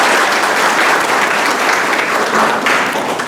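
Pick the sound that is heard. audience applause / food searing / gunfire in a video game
audience applause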